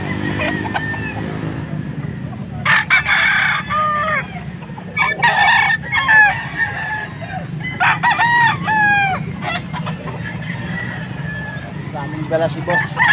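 A young rooster (stag) crows repeatedly in clear, rising-and-falling calls with clucks between them, fairly close, over a steady low background hum with faint voices.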